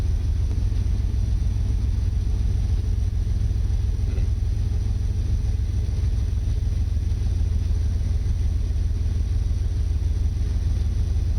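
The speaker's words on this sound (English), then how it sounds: "And now the engine has started." Engine of a Carenado CT210 aircraft in the X-Plane flight simulator, just started and running at a steady low idle rumble, constant and alone throughout.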